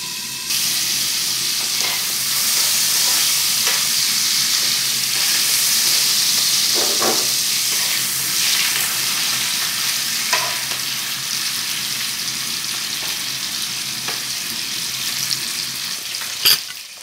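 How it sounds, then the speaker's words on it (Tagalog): Chicken pan-frying in a covered pan gives a continuous close sizzle and hiss, with a few faint clinks and stirs along the way and a sharp knock near the end; no talking. "Pan-fry din natin ang ating chicken."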